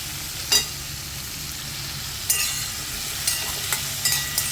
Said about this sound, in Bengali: কুমড়োটাও মোটামুটি ভাজা হয়ে গিয়েছে।